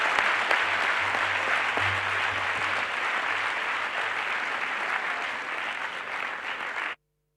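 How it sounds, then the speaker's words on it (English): Sustained applause from an auditorium audience at a large astronomy conference session, dense steady clapping filling the hall for about seven seconds before cutting off abruptly. "One more round of applause."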